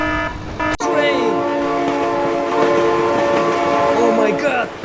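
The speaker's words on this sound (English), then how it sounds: "Train!" A train horn sounds loudly and sustained in the BeamNG driving game, holding steady harmonic blasts for several seconds after a sharp bang, with game noise and a voice shouting over it.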